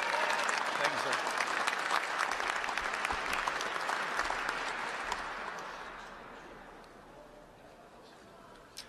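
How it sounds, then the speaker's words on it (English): A large crowd applauds a Navy veteran singer at a Second Amendment rally: dense, steady clapping that is loud at first, then slowly fades over several seconds, with a last stray clap at the end. "Give him a big hand of applause,"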